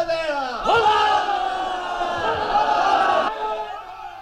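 Stage crowd in a Hungarian theatre performance roaring and shouting together, a sustained loud wall of massed voices calling someone a traitor, swelling abruptly and holding for a few seconds before cutting off.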